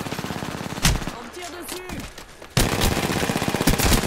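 Video game gunfire: a burst of rapid automatic shots at the start, a short lull with a voice calling out, then dense continuous firing that stays loud to the end.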